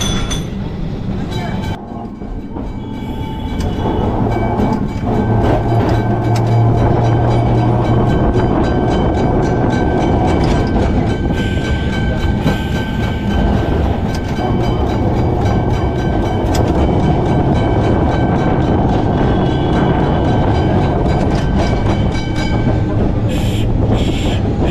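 A Kolkata tram rolls along its rails with a loud, sustained rumble, broken by metallic clinks and rattles, while people talk over it.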